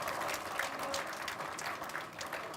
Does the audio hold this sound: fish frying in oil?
no